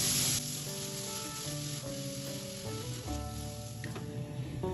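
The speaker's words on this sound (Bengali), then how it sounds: "এবার পেঁপেটা ঘিতে হালকা একটু নেড়ে চেড়ে নেব।" Boiled papaya fries in ghee in a pan for a sweet papaya chutney, making a steady, close sizzle with faint stirring movements underneath and no voices.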